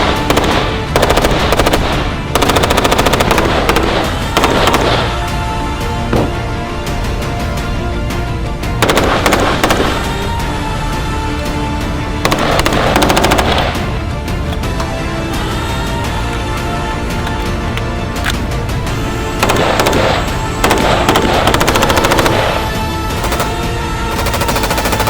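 Colt 733 Commando short-barrelled AR rifle firing on full automatic, loud sustained bursts of rapid shots separated by brief pauses, repeated several times throughout.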